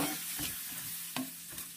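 Ground chicken and beans sizzle in a pan as water goes in, a dense bright hiss with a few stirring scrapes, close and steady, no voices.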